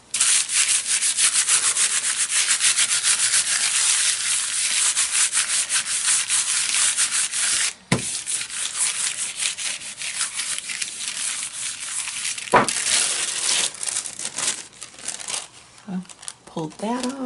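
Wet-strength tissue paper is rubbed firmly over a gel print in a close, steady, dry scrubbing that runs for a long stretch and pauses briefly twice. Faint crinkling handling sounds come near the end.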